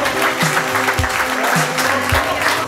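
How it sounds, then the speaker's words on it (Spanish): Brief burst of dense crowd applause at a year-end event, steady and loud throughout, with a few thumping sounds underneath. "le quiero pedir un fuerte aplauso"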